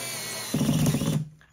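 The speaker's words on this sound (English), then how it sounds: "You screw it down as far as it will go until this starts slipping." A drill drives a breakaway screw through carpet into a floor joist, a short, close whirring burst that stops abruptly, then fades.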